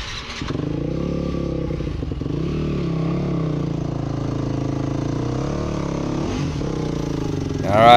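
Dirt bike engine running on a hard enduro cliff trail at Warner Valley, Sand Hollow, with a steady close buzzing drone, slight pitch swells from throttle blips and a sharp rev rising at the very end.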